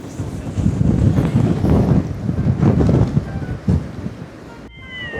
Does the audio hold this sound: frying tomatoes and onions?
no